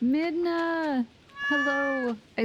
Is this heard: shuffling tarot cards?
no